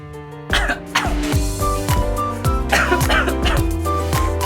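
A man coughs several times in quick succession during a medical assessment, each cough a short, sharp burst, with steady music playing underneath.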